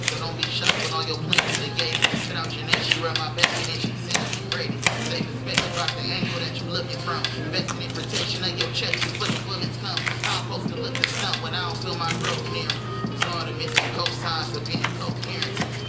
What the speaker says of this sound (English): chop these up real small